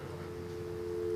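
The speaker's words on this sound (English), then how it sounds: "I hear a dial tone." A steady, continuous telephone dial tone hums alone at moderate loudness, unbroken throughout.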